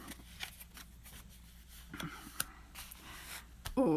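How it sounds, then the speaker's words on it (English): Tarot cards being shuffled by hand: soft, riffling paper flutters and light slaps in irregular bursts, close and quiet, with a faint click near the end. "now I did shuffle these, Lisa."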